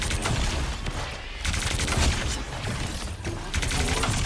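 Energy weapon fire from Ultron in a hero shooter video game: sustained dense bursts of blasting that run continuously, loud and close, with brief dips between volleys and no talking.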